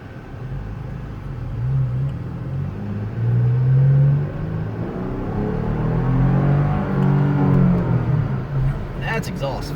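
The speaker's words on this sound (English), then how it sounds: "Man, that exhaust, that TRD catback." Toyota Tacoma TRD Pro truck with a TRD catback exhaust, a deep rumbling drone that swells and eases as the engine revs while driving, steady and close throughout.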